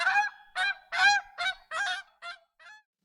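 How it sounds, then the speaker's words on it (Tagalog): A goose honks seven times in a loud, irregular series of nasal calls, the last two fainter and shorter, with no other sound. "Samantalang ang gansa ay mas malakas at may tunog na honk."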